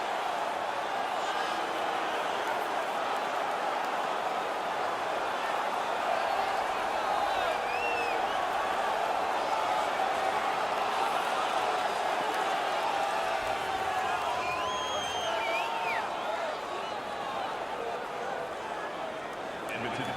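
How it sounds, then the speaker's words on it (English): An arena crowd in the video game NHL 19 roars in a hockey match between the St. Louis Blues and Edmonton Oilers after a fight, a steady loud wash of cheering with whistles and whoops throughout. "The crowd is so pumped right now"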